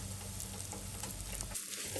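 Masala with chilli powder, roasted fenugreek powder and asafoetida sizzles softly in a pan over low flame, a quiet continuous frying hiss with faint stirring scrapes.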